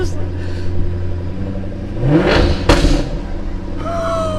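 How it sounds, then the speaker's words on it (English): A Jaguar F-Type S Roadster idles nearby, then takes a short blip of throttle that swells into a sharp, loud rev and crackle before falling back to idle, with a voice exclaiming near the end. "I'm just gonna give her gas just a little"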